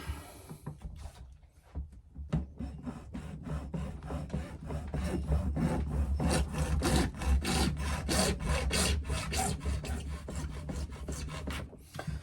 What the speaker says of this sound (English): So this one we'll try hacksaw.